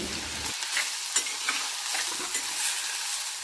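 Mint stirred together with coconut and tamarind in a hot pan for chutney, giving a constant close sizzle and frying hiss with scraping stirs and no talking.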